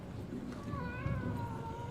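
A cat meows in a video game, one drawn-out, wavering cry near the middle, faint and set over a low background hum.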